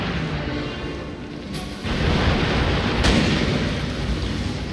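Massed musket fire erupts in a Total War: Shogun 2 battle between Joseon and Chinese armies: sharp cracks, then a dense, sustained roar of gunfire and crackling blasts continuing loudly.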